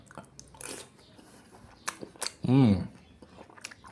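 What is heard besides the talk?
chewing crunchy pork skin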